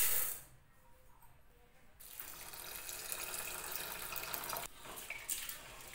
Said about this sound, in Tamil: பருப்பை வாஷ் பண்ணி தண்ணி ஊற்றிடலாம்.